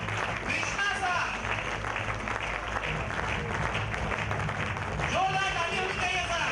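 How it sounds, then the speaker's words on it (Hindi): Audience at a gathering applauds a guest introduced as Krishna Sir, a dense, steady wash of clapping that runs loud for several seconds and swells again near the end, with voices mixed in. "जोरदार ताली होनी चाहिए सर"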